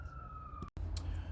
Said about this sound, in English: Apologies for all the sirens in the previous slide.